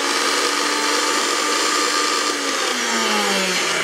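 A loud, steady whirring Oster kitchen blender motor runs continuously, with a slight dip in pitch near the end as the load shifts.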